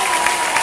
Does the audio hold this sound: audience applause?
yes